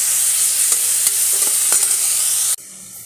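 Bone-in country chicken pieces and chopped tomato sizzle loudly in a hot pan, with a steady broad fry hiss and several scraping stirs before the sizzle suddenly drops off near the end.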